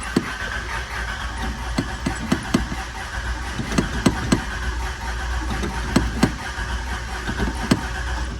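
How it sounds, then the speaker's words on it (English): A Toyota LandCruiser barn find being cranked without priming, the starter churning in a steady rhythm with repeated sharp compression pulses over a low rumble, close and loud, with no voices. "first crank, we're gonna see if we can get away with not even priming it"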